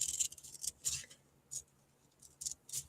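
Scissors snip out a stamped paper deer for a spring card, giving a series of crisp, close, quiet cuts in irregular groups with short pauses between them.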